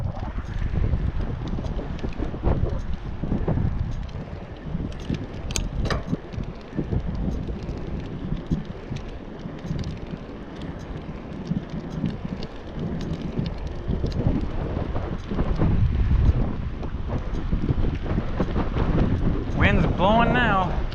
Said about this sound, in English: Wind's blowing now.